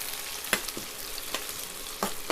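Sliced onions fry in hot oil with cumin, a close crackling sizzle broken by several sharp pops and stirring scrapes, steady and without voices.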